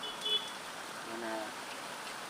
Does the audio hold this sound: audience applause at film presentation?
no